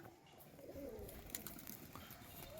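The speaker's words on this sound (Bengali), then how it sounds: "এই যে ছাতিটা ডাকছে গাঁ করে" Soft, low cooing of a male pigeon rises over a steady outdoor background, with faint rustles and distant chirps scattered through it.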